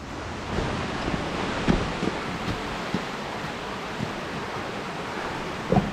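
Waterfall in a wilderness canyon, a steady broad rush of falling water heard from nearby, with a few soft knocks and rustles over the constant roar.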